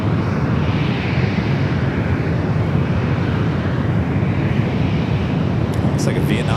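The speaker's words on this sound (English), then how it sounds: "Looks like a Vietnam heading to 28 left." Vietnam Airlines airliner taxiing toward runway 28 left at San Francisco International Airport, a steady, fairly loud jet engine rumble with wind buffeting the microphone.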